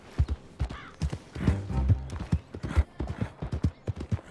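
Rhythmic clip-clop of horse hooves at a steady trot while riding in the video game Red Dead Redemption, loud and close, with a brief whinny-like tone and no talk.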